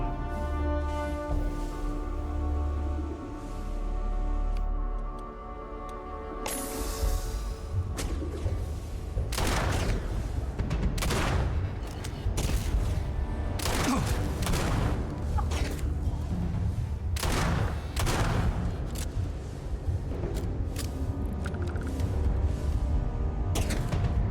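Gunfire aimed at the player in Starfield: Shattered Space comes as scattered sharp shots and thuds amid sustained tonal game music, with a whooshing burst early and irregular blasts clustered through the middle and end.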